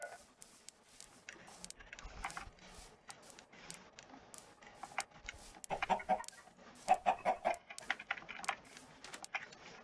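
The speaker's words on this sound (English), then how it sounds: "Alright, let's get those chickens." Chickens in a Minecraft-style video game cluck in short bursts, growing busier toward the end, mixed with quick keyboard clicking in a quiet room.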